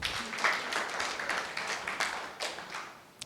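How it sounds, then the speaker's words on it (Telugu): Married members of a seated audience of government welfare secretaries in Etcherla, Srikakulam clap when asked, producing a scattered, uneven patter of claps that thins out toward the end, heard from a short distance without speech. "పెళ్ళైన వాళ్ళు చప్పట్లు కొట్టండి."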